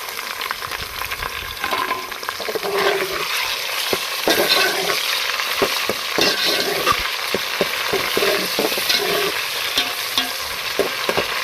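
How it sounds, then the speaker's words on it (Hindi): Steady loud sizzling of chicken frying with golden onions in a pan, with repeated scraping and clinking of a spoon stirring throughout. "चिकन को भी हम गोल्डन कर लेंगे"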